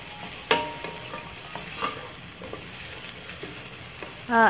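A spoon stirs carrot pieces and paneer in a pan for paneer pulao, with faint intermittent scrapes and soft clinks over a low sizzle and a louder clatter at the end.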